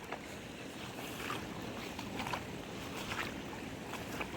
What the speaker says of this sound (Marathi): त्या पाटासून पाणी बघा कसं वाहत आता